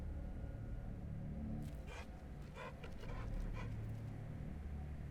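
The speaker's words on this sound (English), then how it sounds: "You can also hear a dog panting." A dog pants in a run of quick breaths against a low droning hum, in a game scene from Wasteland 2. The panting is faint but steady in the middle of the stretch.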